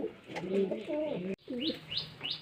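Domestic pigeons in a loft coo in low, throaty bursts during hot weather, followed by a few higher chirping calls, close and clear with no talk.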